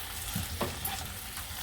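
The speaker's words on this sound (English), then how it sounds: "And then I'm going to add the chicken gizzard. And we're going to fry it all up together." Chicken gizzard fries in a pan for a Guyanese curry with okra, giving a steady close sizzle with crackles and a few stirring scrapes and no talk.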